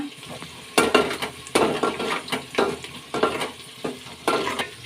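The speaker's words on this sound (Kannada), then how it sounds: "ಈಗ ಶುಂಠಿ ಸೇರಿಸ್ಕೊಳ್ಳೋಣ ಎಣ್ಣೆಲಿ ಫ್ರೈ ಮಾಡ್ಕೊಳ್ಳೋಣ" Green chillies and ginger frying in hot oil, a loud close crackling sizzle broken by repeated rhythmic bursts as a spoon stirs and scrapes the pan.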